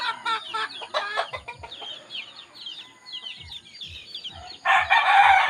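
Several chickens cluck and squawk in a busy run, with a rooster crowing loudly near the end over the chatter.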